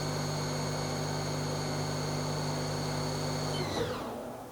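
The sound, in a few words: Haas SL-10 CNC lathe spindle spinning up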